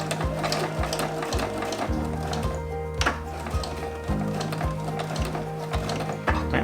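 A Juki sewing machine with a standard foot runs a seam at 1 cm allowance on a baker boy cap, a steady mechanical whir and needle chatter in short stitching bursts with brief pauses between.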